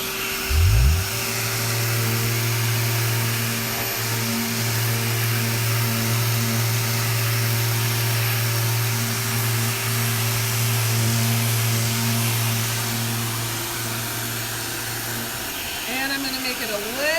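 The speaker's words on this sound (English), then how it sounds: "So I'm going to turn on the vacuum right now so that we're not getting dust all over the place." A shop vacuum runs during surface sanding prep for home decor, a loud steady whine with a low hum that drones continuously for most of the stretch, then cuts out near the end.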